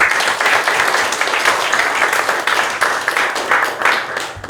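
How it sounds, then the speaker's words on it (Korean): Congregation clapping at a Korean church pastoral ordination ceremony as two candidates stand, a sustained dense round of indoor applause lasting several seconds with a slight dip near the end. "우리 박수 한번."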